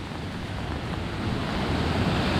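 Sea waves washing onto an empty off-season beach in Sudak, a steady close roar of surf with wind noise, swelling slightly louder toward the end, no voices.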